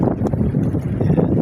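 Steady wind buffeting a fishing boat out at sea, low rumbling gusts blowing continuously and fairly loud with some water gurgle beneath.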